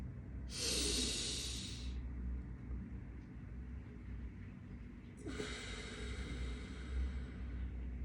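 Two deep breaths taken during a breathing exercise, each a long airy inhale or exhale lasting over a second, spaced several seconds apart over a steady low background rumble, close and fairly quiet.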